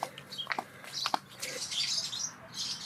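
Birds chirping outdoors, faint scattered high tweets and short calls in irregular bursts, fairly distant against quiet ambient noise.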